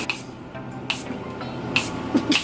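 Short hissing spritzes of Milani dewy makeup setting spray, several quick bursts in a row, close and fairly quiet.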